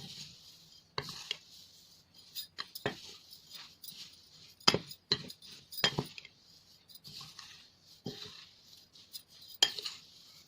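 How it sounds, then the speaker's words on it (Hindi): Spoon scraping and clinking against a metal bowl while ground red chili, salt, black pepper and turmeric are mixed for a vegetable pickle, giving irregular sharp clinks and soft scrapes that sound close and alone. "ये सारी चीज़ों को अब हम मिक्स कर देंगे।"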